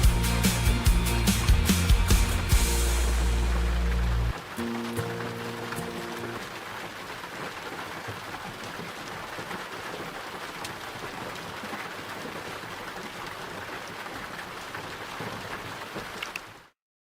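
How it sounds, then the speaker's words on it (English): Heavy rain in the video game Luma Island, a loud steady hiss of downpour that runs without a break, with layered game tones over the first few seconds before the rain continues alone. "That rain is like uber loud."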